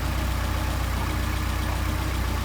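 A Mercedes 190SL engine idles steadily on Solex 44PHH carburetors with the throttle linkage disconnected, a close, even low rumble that holds constant throughout.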